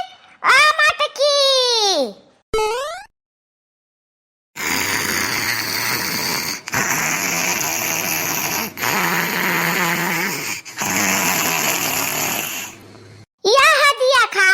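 Loud, drawn-out snoring fills four long rasping stretches in a row, bracketed by short high-pitched voiced squeals at the start and end.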